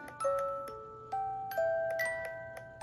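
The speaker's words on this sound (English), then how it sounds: "Now this box makes a little clicking noise." Light clicking from the mechanism of a small damaged Swiss Reuge piano music box, with sparse plucked metallic notes ringing out over it, quiet and close.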